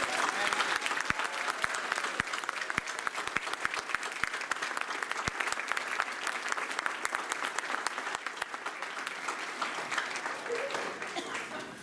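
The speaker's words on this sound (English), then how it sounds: "if we could give them all a round of applause" Sustained applause fills a room at a 2017 State of the City address as attendees honor police officers, a dense, even wash of many clapping hands heard at moderate distance for roughly twelve seconds.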